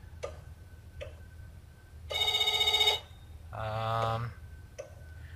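Telephone ringing in the video game Else Heart.Break(), two loud electronic ring bursts back to back, the second lower and buzzier, between soft ticking clicks.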